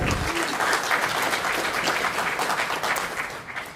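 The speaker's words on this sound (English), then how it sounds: "we need to give ourselves a round of applause for the work that we do in sport" An audience at a regional sports awards night applauds in a full, loud burst that holds strongly before thinning and easing off toward the end.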